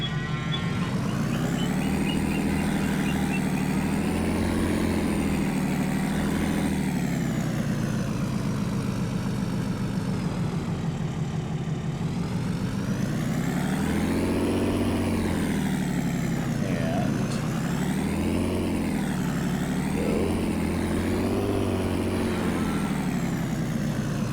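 A truck engine drones steadily in the Farming Simulator 25 video game, loud and continuous, its pitch rising and falling repeatedly as it revs up and eases off across the stretch.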